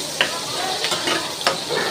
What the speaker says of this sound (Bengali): এখন দিয়ে দিব আমি পেঁয়াজ কুচি, মরিচ ফাড়ি, এগুলো একটু ভেজে নিব।